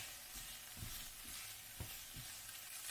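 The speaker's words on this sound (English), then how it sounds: "frying on a low heat while I make up the egg mixture to top the quiche" Quiche filling frying gently in a pan on low heat, a soft continuous sizzle with a few faint stirring scrapes, heard alone.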